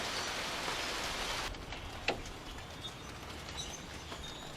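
Steady cold winter rain hisses as a dense, even wash of drops, with a few sharper splats and a faint dull knock partway through, and no voices.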